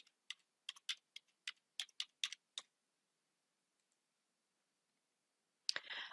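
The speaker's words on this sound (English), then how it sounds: "So let's go ahead and type in a number here." Someone types a phone number on a computer keyboard: about a dozen crisp key clicks in a quick, uneven burst over two and a half seconds, then near silence before a brief rustling noise at the end.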